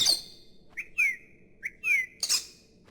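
Small bird in the video game Virginia, chirping in a few quick, clear whistled tweets close by, spaced out over a few seconds against near silence.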